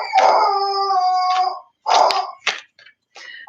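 A dog howls close by in a long, wavering cry, then gives two shorter yelping howls and a few fading whimpers, loud and alone.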